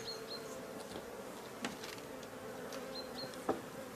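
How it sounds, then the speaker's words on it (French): Honey bees hum in a dense, steady drone at a hive, a continuous close buzz with occasional louder passes and faint chirps in the background, and no speech. "C'est beaucoup d'abeilles."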